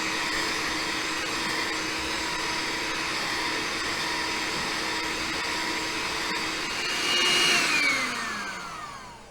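An electric stand mixer runs steadily with a constant motor whine and buzzing hum, rising briefly near the end before easing off, with no talk over it.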